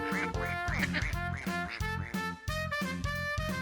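Ducks quack in a rapid, loud, close run of repeated nasal calls, one after another with barely any pause.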